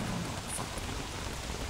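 Steady rain falling in the video game Don't Starve Together, a dense unbroken hiss that fills the short stretch at an even level, with no voices over it.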